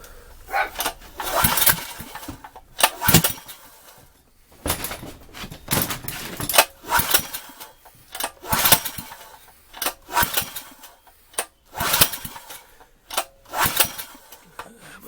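A Champion generator engine is cranked repeatedly, with bursts of pull-start cranking and sputtering separated by short pauses, loud and close throughout.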